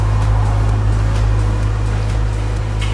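A BMW M2 engine idles with its exhaust valve open, a deep, steady exhaust drone and a throbbing low pulse, continuous and close, with no voices.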